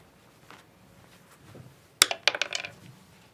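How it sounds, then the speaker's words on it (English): Dice are thrown onto a hard surface during an election audit, landing with a sharp clack followed by a quick scatter of rattling bounces that fade over about a second, after a quiet stretch. "Now let's have our volunteers roll the dice."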